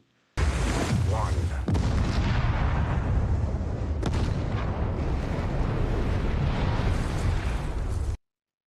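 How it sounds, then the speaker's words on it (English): Movie bomb explosion in water from Fast X, a sudden loud blast that opens into a long, dense roaring rumble with sharp secondary bursts, then cuts off abruptly. "Even with the bomb going off in the water, that was a huge explosion."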